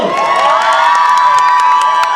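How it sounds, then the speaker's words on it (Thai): A loud crowd screams and cheers continuously, high-pitched shrieks and whoops blending into a sustained roar. "ขอเสียงกรี๊ดให้ต้อนเร็วๆ"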